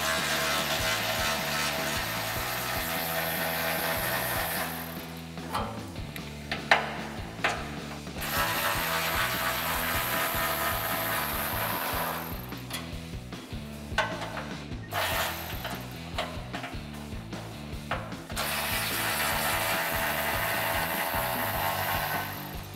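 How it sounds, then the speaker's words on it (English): A hand ratchet with a 10 mm socket backs out the bolts holding a tire heat shield on a 2014-2022 RAM 2500 6.4L, clicking steadily and loudly up close in long continuous runs with a few brief pauses. "So I'll use a 10 millimeter socket and get these out."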